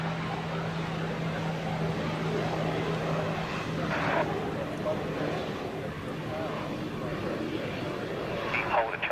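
An airliner rolls down the runway for takeoff, its engines a steady, loud, broadband roar with a low droning hum throughout, and a voice speaks faintly over it.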